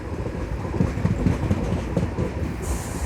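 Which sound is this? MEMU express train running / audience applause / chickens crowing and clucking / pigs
MEMU express train running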